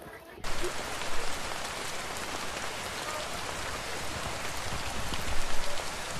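Heavy rain pours steadily outdoors on a hilltop temple visit, a dense, even hiss that starts abruptly after a quiet moment and stays loud and constant, swelling slightly near the end.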